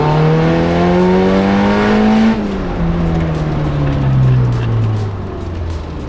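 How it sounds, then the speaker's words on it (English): A K-swapped Mazda RX7 on a test drive, its engine loud and close as revs climb steadily, then drop at a gear change before pulling up again and easing off, with no talking. "Andy took the car out for a quick test drive"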